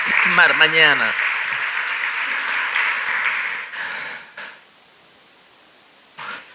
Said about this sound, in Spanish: Dar un aplauso al Espíritu Santo en esta maravillosa mañana.